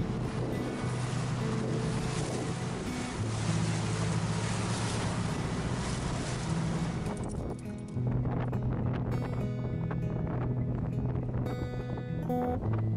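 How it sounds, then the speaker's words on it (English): A sailboat under a heavily reefed sail makes a brisk crossing toward an island in strong wind, with steady rushing water and wind noise filling the whole stretch and a rougher, denser wash early on. "It's a brisk trip across with a heavily reefed sail."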